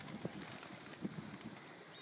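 Pigeons in a loft give soft, low coos at intervals over a steady background hiss, faint and close by.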